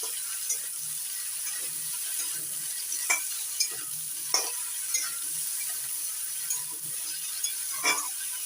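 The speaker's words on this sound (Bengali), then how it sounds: "বেগুনগুলো আলুর সঙ্গে নাড়াচাড়া করে একটু ভেজে নিচ্ছি" Eggplant pieces and potatoes stirred while frying in a pan, a steady soft sizzle broken by periodic scraping strokes of a spatula, close and moderately loud.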